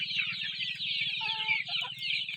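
A native country hen on a rural farm clucks in short, close, repeated calls over a steady buzz of insects, with no talking.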